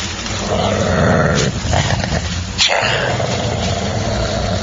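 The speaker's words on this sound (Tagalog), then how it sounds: "May lumabas na malaking aso" A deep, rumbling dog growl, loud and close, sustained for several seconds with a brief dip midway.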